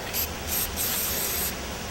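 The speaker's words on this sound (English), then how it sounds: "let's put some black spray paint on there" Black matte spray paint hisses from an aerosol can in several short bursts followed by one longer continuous spray, close and fairly quiet, with no talking.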